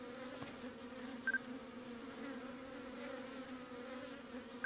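A bee buzzing in the video game Zelda: Tears of the Kingdom, a steady, faint droning hum that holds evenly throughout, with a couple of tiny clicks.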